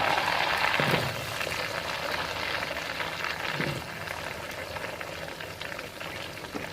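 Chopped potatoes hit hot tempered oil in a pan for a Bengali pui shak and prawn dish, giving a steady, close sizzling hiss that fades slightly as it settles.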